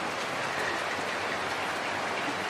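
Steady rain falls in a dense, even hiss, close and continuous with no break, no voices over it.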